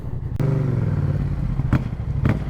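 A 2024 Yamaha Tracer 700 A2 motorcycle rumbles while riding, its engine note rising in a short rev, with a few sharp pops or clatters cutting in, loud and close.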